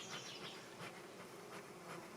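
Honey bees at a hive being smoked buzz in a soft, continuous drone, several insects passing close in brief swells over a quiet background.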